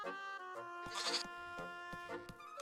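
A goat bleats in a video game, a harmonic, wavering cry repeated a few times over game sounds with soft ambient tones underneath; no one speaks.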